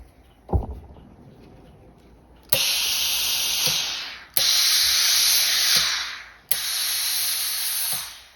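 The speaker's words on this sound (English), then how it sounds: "A little bit of steam to get everything in position." A steam iron gives three long, loud hisses as it presses a garment seam, each burst lasting one to two seconds. A soft thump comes before them, and the bursts are close by with no talking.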